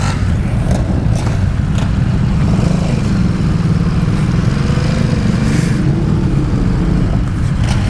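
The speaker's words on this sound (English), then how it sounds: "This is the first legit sport bike I've ever ridden." A Ducati Supersport sport motorcycle being ridden, its engine droning loudly and steadily with wind rush throughout, no talk.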